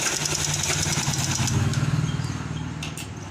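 A domestic sewing machine runs steadily while stitching a lined blouse, its fast motor whir and needle clatter close and continuous, easing off slightly toward the end.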